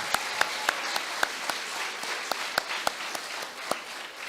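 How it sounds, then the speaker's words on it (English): Audience applause for award winners at an elementary school awards ceremony, a steady moderate patter with a few distinct nearby claps standing out at a roughly regular pace. "let's give our Hard Worker Awards a round of applause."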